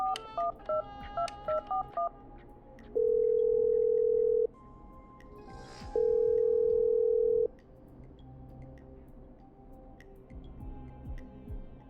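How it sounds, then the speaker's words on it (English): A telephone in the radio-station game Killer Frequency: a quick run of short touch-tone dialing beeps, then two long, steady ringback tones separated by a pause, with faint room noise behind. "I'm dialing. One moment."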